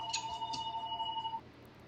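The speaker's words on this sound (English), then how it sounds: "Phone's ringing here in the booth." Telephone ringing in a racing commentary booth during a simulated Indianapolis truck race, a steady electronic warble for over a second before cutting off, fairly close over a low background hum.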